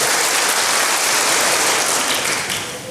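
Dense, steady applause from a church congregation fills the space, a loud wash of many hands clapping together with no talk over it, easing slightly toward the end.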